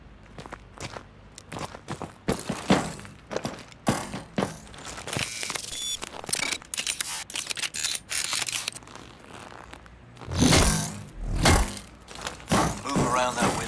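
Magnetic grip gloves clamp and clank in rhythmic steps as a soldier climbs a wall in Call of Duty: Advanced Warfare, with metallic thuds and mechanical clicks, a louder rumbling burst near the end, and faint voices underneath.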